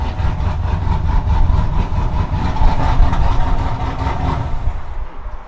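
An overheating engine idles roughly, its choppy, uneven beat pulsing steadily up close before cutting off near the end; no one speaks.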